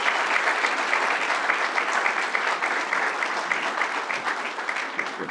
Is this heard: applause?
yes